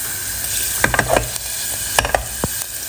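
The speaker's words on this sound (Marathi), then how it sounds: "एका भांड्यामध्ये तेल टाकलेलं आहे यामध्ये लसूण टाकायचं आहे" Garlic fries in oil in a pot with a loud, close, steady sizzle, broken by a few sharp clatters of a stirring spoon against the metal.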